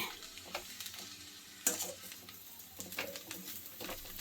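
Vegetable poha bath is stirred in a pan, with soft scraping and light sizzling, faint and intermittent and marked by one sharper clink.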